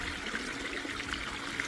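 Steady broadband rush of river water flowing through rapids during gold panning, continuous and fairly loud with no talking.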